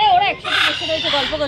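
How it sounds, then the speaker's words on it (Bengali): Swans honking at the Harinalaya Eco Park zoo in New Town, Kolkata, with short nasal calls mixed in among people talking nearby. "এখানে দেখো তোমরা রাজহাঁসগুলো কি সুন্দর দাঁড়িয়ে আছে একদম সামনে"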